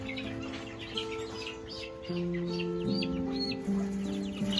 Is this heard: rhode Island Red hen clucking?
yes